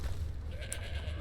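A goat bleats in a fantasy video game, a single wavering cry heard clearly over a low steady ambient hum.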